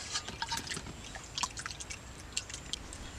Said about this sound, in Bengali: এখন এগুলো আমি ধুয়ে নিব ভালো করে।